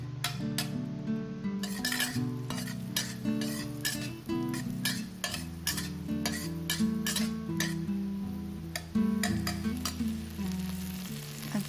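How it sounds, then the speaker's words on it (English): Garlic, scallion and red chili pepper stir-fried in oil over high heat, a steady loud sizzle with frequent clinks and scrapes of a utensil against the wok, no talk. "Stir fry the 2/3 parts of the garlic, scallion,"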